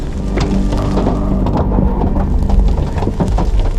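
Golf ball size hail pounds down in an African hailstorm, a dense, loud, continuous roar of impacts with rumbling low noise and scattered sharp hits throughout.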